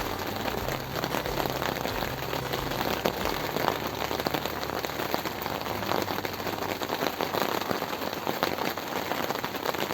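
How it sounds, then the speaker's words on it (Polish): Dense, steady rain patters continuously on a surface at a fishing spot on the water, broadband and even throughout with no talking. "Znowu pada."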